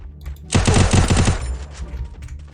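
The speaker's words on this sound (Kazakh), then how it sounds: "Ойбай, мыналар масқара атысып жатыр" A rapid burst of automatic gunfire from a battle royale video game, loud and close, lasting about a second before trailing off into quieter background game sound.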